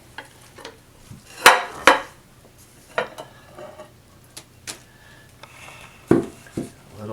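A vegetable and Parmesan tart is quickly flipped from its pan onto a larger platter, making a few sharp clinks and dull knocks of metal and crockery amid quieter handling noises.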